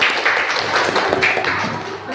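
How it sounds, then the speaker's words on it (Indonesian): Pupils and teachers at an Indonesian school event clap for a student, a steady wash of many hands applauding nearby, with faint voices mixed into the clatter. "Baik, tepuk tangan untuk Sarah."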